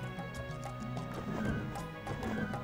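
Horses clip-clopping and whinnying in the Heroes of Might and Magic video game, with steady game music underneath, hooves and a neigh clearly audible and fairly loud throughout.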